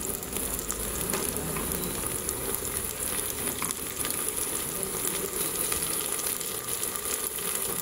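Chopped onions and green chilies sizzle in hot oil in a pan while browning as the base for a home-style biryani, a steady, busy crackle and hiss that carries on evenly throughout with no talking.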